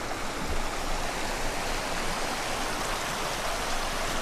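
Loud mountain stream water rushing at a hiking crossing on Mount Elbert in Colorado, a dense, steady roar of flowing water close by.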